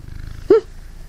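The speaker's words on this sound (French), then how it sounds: "Un ronron de chat, je sais pas si vous l'entendez." A domestic cat purrs with a faint, low, pulsing rumble close by, broken halfway through by a short voiced chirp.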